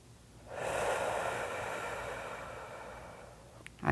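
A long, deep inhale of breath through the nose, soft and close, rising gently and held steady for a few seconds in a quiet room during a calming breathing exercise.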